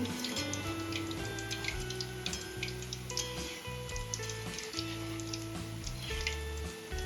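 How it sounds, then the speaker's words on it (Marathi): Tiny boondi frying in hot oil hiss in a continuous, bubbly wash of sizzle that is close and fairly quiet. A tonal hum sits underneath and no one speaks. "आता बुंदीला हलवून घ्यायचं म्हणजे बुंदी जळणार नाही"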